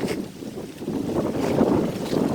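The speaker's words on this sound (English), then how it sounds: "it is really windy out" Strong outdoor wind with gusts near 60 mph roars continuously and buffets the microphone with a loud, close rush.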